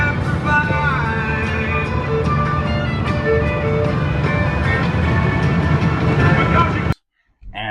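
An OBS Ford XLT pickup truck with a 5-speed driving on cruise control, a steady engine drone with road and wind noise inside the cab, talk over it, cutting off abruptly near the end.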